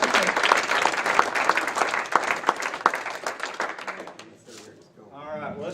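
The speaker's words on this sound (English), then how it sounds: "let's give them all a big round of applause" A crowd applauds warmly for several seconds for student performers, the clapping gradually fading out before a voice begins speaking.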